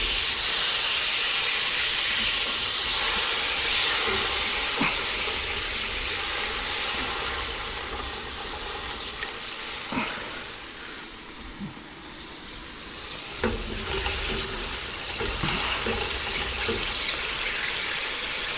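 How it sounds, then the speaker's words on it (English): Liquid deglazing a hot pan while cooking Cuban ropa vieja, giving a loud, steady sizzle and steam hiss that runs unbroken, with a few faint clinks along the way. "We're gonna deglaze."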